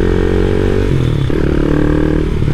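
A bored-up Honda Monkey motorcycle with a 181cc engine revs loudly and up close, its steady throttle note rising and dipping through a short burst with no one talking.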